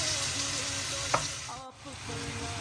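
Food with lemon sizzling and frying in a pan, a continuous close crackle with faint clinks of stirring and a brief sharp tap partway through.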